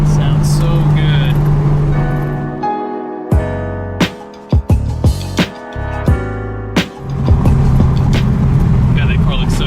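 A V12-swapped Toyota Supra drives by with a deep, steady engine drone that drops away mid-clip into sharp intermittent bursts, then returns; people talk over it throughout.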